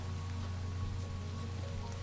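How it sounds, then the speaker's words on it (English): Rain falling in Minecraft: a constant, even patter of rainfall forms a soft, dense wash with a low steady hum beneath and no speech. "It might act like snow in the beginning, but it's going to turn into rain really quickly."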